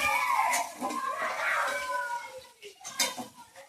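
Shrimp frying in a pan are lifted out, with clinking utensil and pan scrapes over the steady hiss of hot oil, close and fairly loud.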